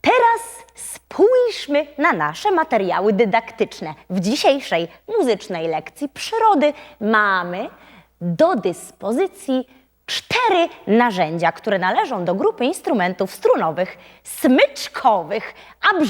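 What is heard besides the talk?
None of the usual background noises is heard.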